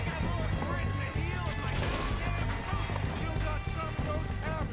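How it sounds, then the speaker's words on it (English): Bursts of gunfire in the video game Red Dead Redemption 2 crackle at moderate distance beneath a tense, continuous game soundscape, with someone talking over the shots. "Who else is shooting at us?"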